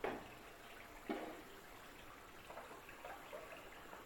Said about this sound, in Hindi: और इसमें पानी मिक्स करेंगे।